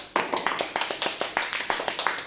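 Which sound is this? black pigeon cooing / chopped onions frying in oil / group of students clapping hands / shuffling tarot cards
group of students clapping hands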